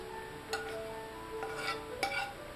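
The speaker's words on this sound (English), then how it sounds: "I'm going to toss my peppers and onions in there" Peppers and onions are tossed into a pan for General Tso's chicken, giving a few light clinks and scrapes of utensil on metal, spaced out and fairly quiet.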